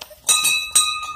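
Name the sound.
temple bell being rung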